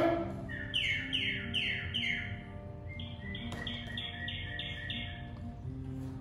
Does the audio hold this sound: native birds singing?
yes